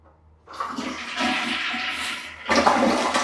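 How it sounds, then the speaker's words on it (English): A hotel bathroom toilet in a Jacksonville riverfront hotel flushes close by, a loud rushing swirl of water starting after a brief quiet moment and surging again near the end, with no talking. "Let's see if the toilet works"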